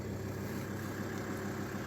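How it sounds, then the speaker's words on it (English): A massive diesel engine in a large car idling smoothly, a steady close rumble with no changes in pitch across the short stretch. "It starts so smoothly. And it's a smooth engine, even though it's a diesel and a massive diesel"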